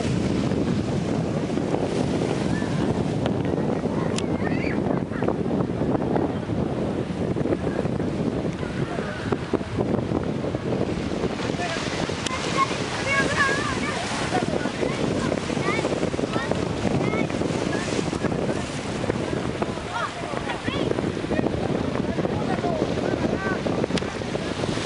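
A motorboat's low rumble carries across the water, mixed with lapping waves and heavy wind buffeting the microphone throughout.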